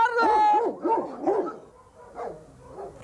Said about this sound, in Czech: to je ale fakt velký pes